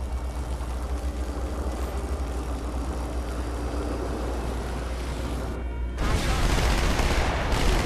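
Sustained rapid gunfire in Halo 2 Anniversary rattles without pause as a bulkhead door is shot, then a louder, harsher burst of shooting erupts near the end, dense and close.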